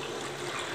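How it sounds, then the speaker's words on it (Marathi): Water being poured into a thick curry gravy for shev bhaji gives a brief, steady liquid pouring and splashing sound, close and moderately quiet, with no talk. "यामध्ये पाणी घालूया"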